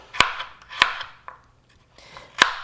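A knife chops through skin-on sweet potatoes on a cutting board to make bite-sized cubes, with three sharp, distinct cuts plus a couple of softer taps, close and clear.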